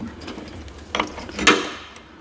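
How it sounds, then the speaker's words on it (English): Metal clicks and ratcheting of a wrench being turned on a 1971 Ski-Doo Olympic snowmobile, two sharper clanks standing out over quiet, close-up workshop background. "I don't know if I got the right wrench on here."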